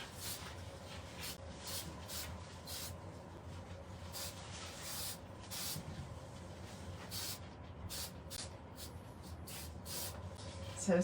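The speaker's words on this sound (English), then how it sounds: "I just want to lightly" An aerosol spray can puffs foam onto a Halloween pumpkin in a series of short hissing bursts, close and fairly quiet, with pauses between sprays.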